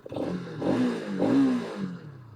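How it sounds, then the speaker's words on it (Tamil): A Bajaj Pulsar RS200 motorcycle exhaust rises and falls through a few gentle revs, quiet and fairly distant, with no talk over it. "எக்ஸாஸ்ட் நோட் கேட்குதா?"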